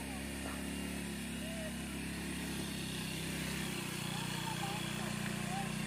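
A motorcycle engine runs steadily up close, its low rumble shifting pitch midway as it changes speed, with talk faintly audible over it.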